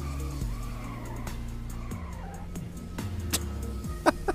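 Race car in a racing video game sliding loose toward the wall: a close engine drone that steps up through gear changes under squealing, skidding tires, ending in sharp knocks and scrapes.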